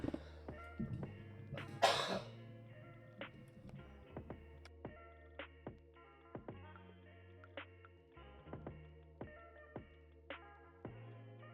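Repeated dry coughs from a man during a live stream, a burst of harsher coughing early on followed by regular single coughs every second or so, close to the microphone over a quiet room.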